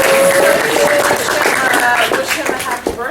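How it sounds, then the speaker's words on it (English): An audience at an economics lecture claps through the whole stretch, with steady close applause and a voice carrying over it, before the clapping thins toward the end. "But give him another round of applause."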